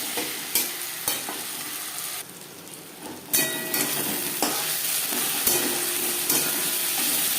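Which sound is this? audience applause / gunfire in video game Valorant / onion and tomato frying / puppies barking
onion and tomato frying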